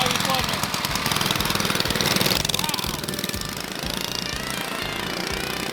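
A Predator 212 engine on a swapped mini bike runs fast with the choke off, its loud, rapid, steady buzzing chatter holding throughout while people talk over it.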